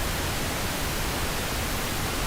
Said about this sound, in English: So there we have the pink noise.